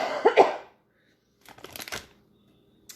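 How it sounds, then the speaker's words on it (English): Two short bursts of coughing, a sharp double cough at the start and a rougher, scratchy cough a second later, close and otherwise quiet. "Sorry about me coughing"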